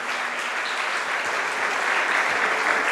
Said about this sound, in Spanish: désele ese fuerte aplauso